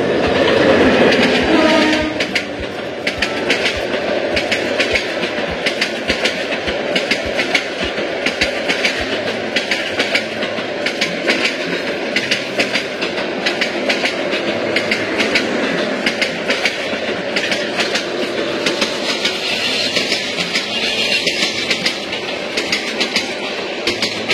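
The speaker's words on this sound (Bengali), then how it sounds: "তো এখন যাচ্ছে আন্তনগর তিস্তা এক্সপ্রেস।" Intercity Tista Express train passing close by at Bangladesh Agricultural University, a loud sustained roar with steady rhythmic clickety-clack of wheels on rail joints running throughout.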